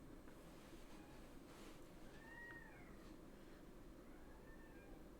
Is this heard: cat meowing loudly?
yes